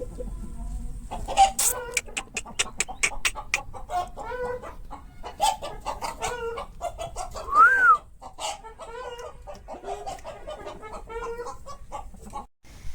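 Aseel chickens cluck repeatedly in a farmyard, with sharp rhythmic clucks throughout and a brief rising rooster call midway, moderately close with steady background activity.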